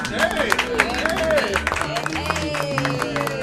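Studio audience clapping during a radio show anniversary celebration, a short burst of mixed hand claps under crowd chatter and voices talking over it.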